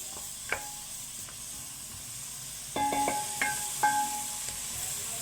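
Pepper and meat spices sauté in a hot pan with a soft, continuous sizzle, broken by a few clinks and scrapes as the mixture is stirred near the middle and end.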